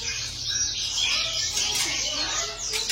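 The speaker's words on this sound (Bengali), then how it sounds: "প্রচুর পরিমাণে পাখি দেখতে পাচ্ছি" Dense chorus of caged birds chirping and tweeting at Chatuchak bird market in Bangkok, many overlapping high calls close by over a low background hum.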